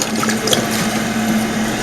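Water trickling and gurgling steadily through a bell siphon drain in an indoor aquaponics grow bed, with a low constant hum running underneath, close and continuous.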